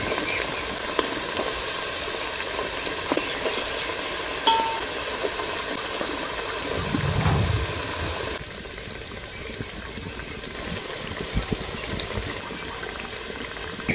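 Potato Manchurian balls fry in hot oil, making a continuous, dense bubbling sizzle and hiss that holds steady throughout and eases slightly near the end. No voices are heard.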